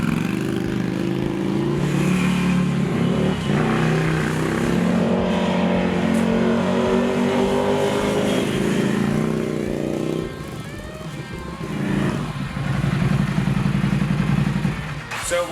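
A Triumph Thruxton café racer motorcycle riding on a road in Malibu Canyon, the engine droning loudly and shifting pitch as it accelerates and eases off, with wind noise and a brief drop in level partway through.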